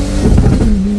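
A turbocharged BMW E30 engine blips loudly up close, a brief rev swelling and settling back into a rough, buzzing idle-like drone.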